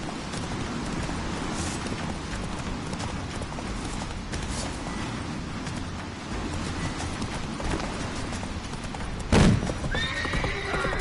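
A horse in the Skellige region of a fantasy role-playing video game gallops with rapid rhythmic hoofbeats over rushing wind and game ambience, then gives a loud whinny near the end.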